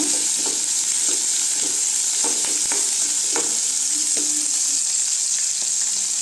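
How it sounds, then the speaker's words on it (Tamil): Garlic and grated coconut sauté in a pan for okra thokku with a steady, close sizzle, broken by a few soft stirring taps. "இதெல்லாம் லைட்டாக வதக்கிக்கலாங்க"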